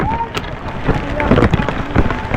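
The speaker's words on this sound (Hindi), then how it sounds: "बारिश हो रही है" Rain falls at Rambara on the Kedarnath trek, a steady loud hiss of drops with wind buffeting the microphone and a few knocks. Voices talk over it at times.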